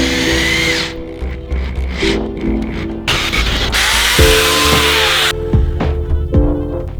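A power tool whirs close by while sanding fingerboard ramp sheets, with grinding surges that start and stop over several passes and brief bursts of higher-pitched friction between them.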